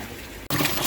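Water flows through a newly set up filter, a steady wash that cuts out briefly, then returns as a louder, fuller gush of rushing liquid.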